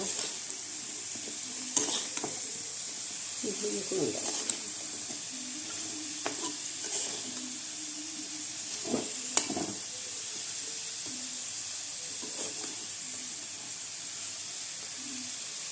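Potatoes frying in a pan while being stirred and turned, a continuous sizzle broken by repeated spatula scrapes and knocks against the pan, close by and fairly quiet.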